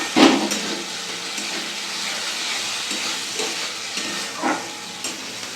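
Masala spices fry in oil with salt and a splash of water, a soft continuous sizzle with occasional louder crackles and stirring scrapes, close by and without speech.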